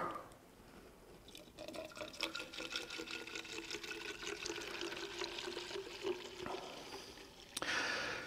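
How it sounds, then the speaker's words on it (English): Distilled water pours from an unopened container into a jug holding a pump of Nano Pail soap concentrate, a steady splashing, gurgling stream that fills it for several seconds before a brief pause and a louder final splash. "I'm also going to pour water out of an unopened container of distilled water."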